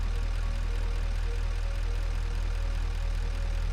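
Diesel vehicle engine in the video game Satisfactory, a steady low droning hum with a constant tone and no variation, running continuously and fairly loud throughout with no talking.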